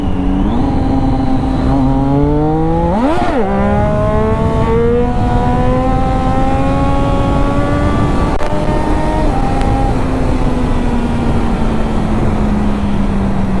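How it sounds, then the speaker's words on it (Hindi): A superbike with a loud exhaust revs hard at high RPM, a close, piercing engine howl with rising and falling pitch sweeps through shifts, sustained and loud throughout. "मुझे लग रहा है लाउड हो गया एग्जॉस्ट"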